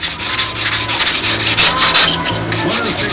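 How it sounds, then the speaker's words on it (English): Hand sanding a wooden Nobler model aircraft part, with close, loud rhythmic rasping strokes repeating back and forth, about five strokes, alone without talk. "Just keep sanding."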